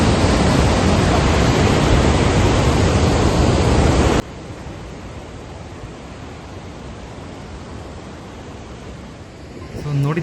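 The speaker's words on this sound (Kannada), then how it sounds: "ಜಲಪಾತ ಎಷ್ಟು ಫಾಸ್ಟಾಗಿ ಹರಿತಾ ಇದೆ ಒಂದು ಸರಿ ಕೇಳಿಸ್ಕೊಳ್ಳಿ ನೀವು." Jog Falls roaring as heard from the top of the falls: a dense, steady broadband rush, very loud for the first few seconds, then abruptly quieter but continuous, with no voices.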